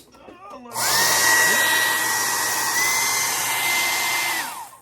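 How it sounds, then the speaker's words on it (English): A hair dryer switches on with a loud whoosh and steady high whine, blowing continuously for a few seconds before winding down, used while painting; a voice is briefly heard before it starts. "when you're using a hair dryer, you don't blow it against your brushes"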